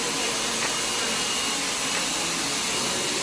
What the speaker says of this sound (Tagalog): Blower yan.